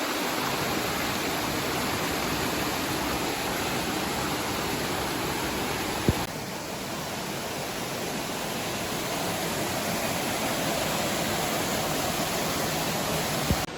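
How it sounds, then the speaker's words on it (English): A river in the Blue Mountains running with a strong current gives a steady, loud, broadband rush of water that stays constant throughout, with no voices. "It's pretty heavy in terms of the current going down there"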